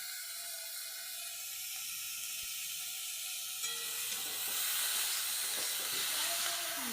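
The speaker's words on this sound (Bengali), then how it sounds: "মাছটা ভালো করে ভাজা হোক।" Fish fries in hot oil, giving a continuous, fairly quiet hiss and sizzle that grows fuller and crackles more in the second half, with no voices.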